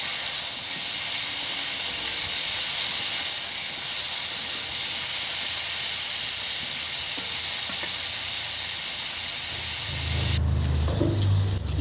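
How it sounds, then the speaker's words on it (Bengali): Vegetables fry in oil as they are stirred in a Bangladeshi home kitchen, a steady close hiss and sizzle running unbroken before ending with a few low knocks. "এখন ভালোভাবে নেড়ে চেড়ে ভেজে নিতে হবে।"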